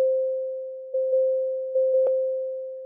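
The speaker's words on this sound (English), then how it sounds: "So you can hear two tones." Sine tones generated with the Web Audio API form a single pure, steady pitch that holds for the whole stretch, broken only by a few faint clicks and one brief tick.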